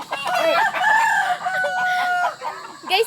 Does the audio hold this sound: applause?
no